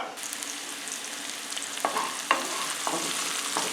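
Chopped onions and serrano peppers sizzle in hot olive oil, a steady frying hiss broken by a few sharp crackles and pops, close by with no talking.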